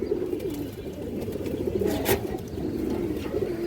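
Indian highflyer pigeons, including white flying-line birds, cooing close by in a loft, a low continuous throaty coo that repeats and overlaps without pause.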